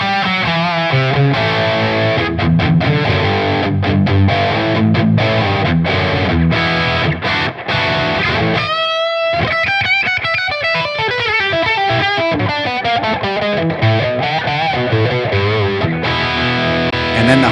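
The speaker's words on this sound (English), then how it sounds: "We go with a lower gain setting here." Electric guitar through a lower gain setting of a boutique amp model in TONEX, moderately overdriven, fast chugging riffs and rapid notes, then a brief gap before ringing sustained notes and bends, loud and close.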